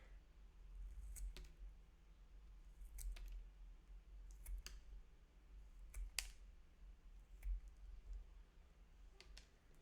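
Scissors snip through craft pieces for an Ndebele house DIY kit, giving faint, sparse clicks and cuts in several small bursts over a low steady hum, close by and quiet.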